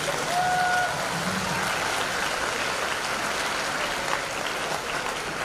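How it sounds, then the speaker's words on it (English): A large audience at a Founders' Day ceremony claps for itself, dense continuous applause with a bright hiss-like texture that starts strong and holds evenly throughout, with no speech. "It's okay, you can clap for yourselves."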